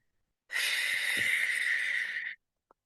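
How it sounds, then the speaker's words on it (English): A single long, deep breath drawn in, an airy steady rush lasting about two seconds, close and fairly loud, ending with a faint click. "So let's all take a deep breath."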